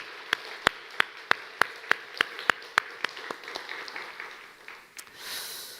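A congregation in a church at an anniversary worship service claps in a crisp, steady rhythm of about a dozen sharp claps, then breaks into looser applause that fades out, heard at moderate distance without speech.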